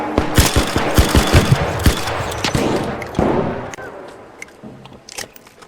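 Rapid bursts of automatic gunfire in the video game ARC Raiders, loud and dense for the first two seconds, then thinning to scattered shots and trailing off, with faint voices beneath.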